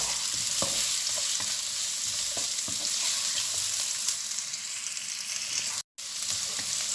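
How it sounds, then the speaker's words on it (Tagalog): Onions sauté in a pan with a continuous close sizzle, broken by scraping stirs and soft knocks of the utensil, with a brief dropout near the end. "gisa lang natin siya, guys"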